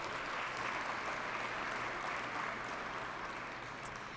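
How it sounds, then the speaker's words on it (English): An audience at the 7th Daughters for Life Annual Gala gives a dense, steady round of applause that tapers slightly toward the end, with no voices over it. "let's give a round of applause for his work"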